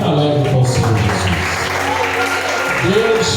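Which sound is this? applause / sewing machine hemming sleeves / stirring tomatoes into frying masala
applause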